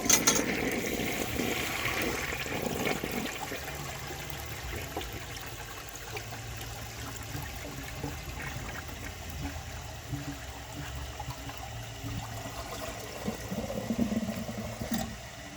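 A 1960 Rheem-Richmond toilet struggles to flush a dish towel, giving a rush of water at the start that settles into a long, quiet trickling and gurgling with faint mechanical clicks.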